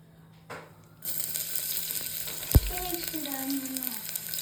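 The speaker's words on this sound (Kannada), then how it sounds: "ಸೊ ಇದನ್ನು ಸ್ವಲ್ಪ ಫ್ರೈ ಮಾಡ್ತೀನಿ" Half an onion sizzles in hot oil in a pan for mutton pepper dry, a steady bright hiss starting after a soft bump, with a clink of a utensil and stirring scrapes partway through.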